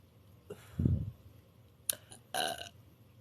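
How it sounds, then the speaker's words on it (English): Burping by a young woman: three short belches, the second low and gurgly, followed by two brief harsher bursts, close and fairly loud against a quiet room. "Can you gulp air to burp?"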